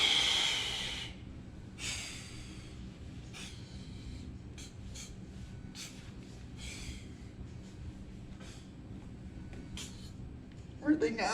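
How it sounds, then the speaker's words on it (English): A forced exhale during a freediving breathing exercise: a strong, hissing breath pushed out at the start, followed by a series of shorter sharp puffs and sniffs, close to the microphone. "Forced exhale."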